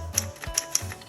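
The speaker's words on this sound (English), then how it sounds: "I will type a little bit as we fade out" Keys strike on a 1970s Smith Corona Coronet Cartridge 12 electric typewriter, three crisp clacks in quick uneven succession over a low steady motor hum.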